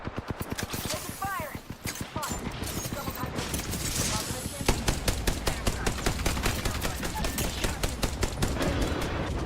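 Rapid automatic gunfire in Apex Legends, dense rhythmic bursts of sharp shots running almost without pause, loud and close, with brief game voice callouts mixed in.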